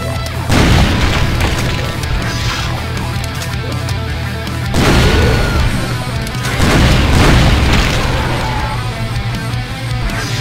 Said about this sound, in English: Let's just throw grenades.